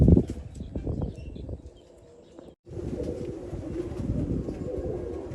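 Low cooing from a pair of red pigeons in a net enclosure repeats close by in a soft, throaty rhythm, with rustling and light shuffling noises throughout.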